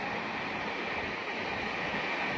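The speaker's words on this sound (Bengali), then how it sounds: "বেশ ভালোই কিন্তু গতিতে ছুটছে আমাদের ট্রেনটি" Kandari Express train running fast from Howrah toward Digha, passing through a station: a dense, continuous roar of wheels and rushing air heard from inside the coach, steady and loud throughout.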